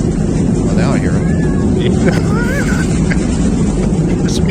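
Aircraft engines roaring with thrust reversers deployed during landing: a loud, steady broadband rumble with a few faint whistling tones and no clear gaps.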